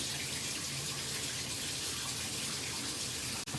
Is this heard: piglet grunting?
no